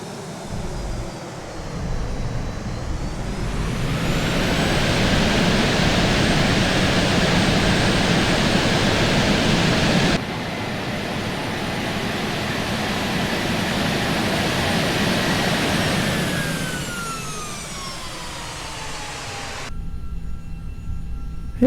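A light aircraft touches down on a grass runway in Palawan. Its engine drones loud and steady with a rumbling roll as it slows, then the whine sweeps downward and fades toward quiet.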